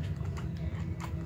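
Horse hooves clip-clop on the ground in Assassin's Creed III, a quick close rhythm of hoof strikes over a low game background rumble.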